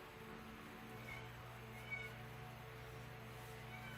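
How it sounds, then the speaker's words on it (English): Kittens meowing faintly from a crate outside, distant and soft beneath a steady low indoor hum. "I don't know if you guys can hear little kitties in the background"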